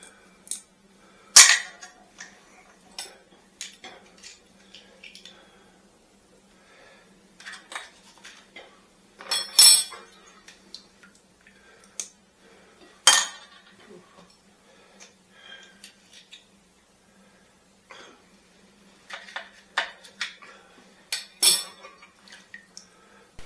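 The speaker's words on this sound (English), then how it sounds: "break off the top. And then scrape out our clam from inside." Clam shells are snapped open and scraped out in a kitchen while preparing clams casino. Sharp, scattered cracks and scraping clicks come at irregular intervals between quiet pauses, close by, with no talking.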